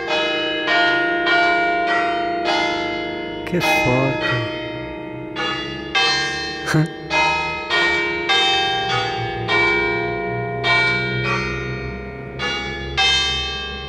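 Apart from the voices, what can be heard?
church bells ringing a tune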